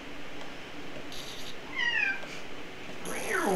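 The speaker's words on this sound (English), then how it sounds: "Go away, cat." A house cat meows close by, two short rising meows about two seconds apart over steady background noise.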